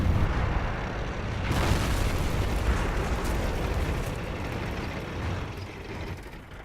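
A World of Tanks cannon shot striking the ground: a loud, deep boom that rolls on as a broad rumbling roar, slowly fading over several seconds with no voices.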